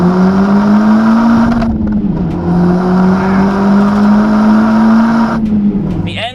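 A modified Honda Civic Type R drives along with its engine holding a loud, steady drone close by, dipping briefly twice as the revs shift before the note settles again.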